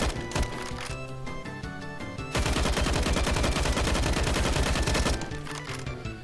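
Rifle spray fire from an SG 553 or AUG in the game CS:GO, rapid automatic bursts of gunshots, with a long sustained loud spray in the middle between shorter clusters of shots, under game music and no talking.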